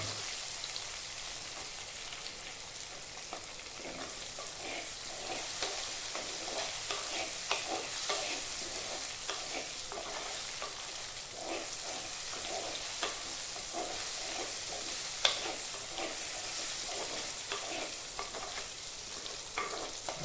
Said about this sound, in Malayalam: ബാക്കിയുള്ള തക്കാളി ഇതിനകത്തേക്ക് ഇടുക. ഇളക്കുക.